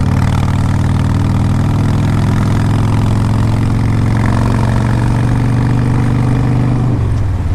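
A 2004 Harley-Davidson Road King Custom motorcycle engine rumbles loud and close with a deep, steady low throb, then drops off sharply near the end.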